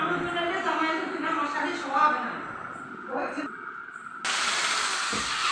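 A hammer drill bores into an aluminium sliding window frame, a loud broadband whine cutting in abruptly near the end after a stretch of murmured voices and clatter.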